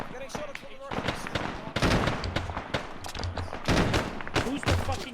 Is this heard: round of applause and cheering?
no